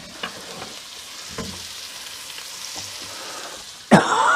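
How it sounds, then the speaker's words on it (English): Thin T-bone steaks fry in a pan with a steady close sizzle, a few soft clinks and taps along the way, then a sudden loud scrape or clatter near the end. "And we'll just let that fry up."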